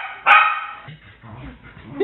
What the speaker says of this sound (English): He's a year-old puppy.